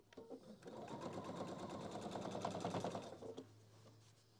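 A sewing machine runs steadily for about three seconds, close and clear, with rapid even stitching rattle while sewing a border seam on a handbag organiser, then stops, leaving a faint hum.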